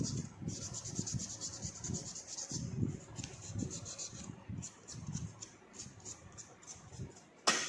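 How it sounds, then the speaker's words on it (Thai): Fingernails are worked with a coarse file and then a fine one, giving soft, repeated scratchy rubbing strokes, close and quiet, in an uneven back-and-forth rhythm. "เอาตะไบหยาบนะครับ แล้วค่อยเอาตะไบละเอียดนะครับ"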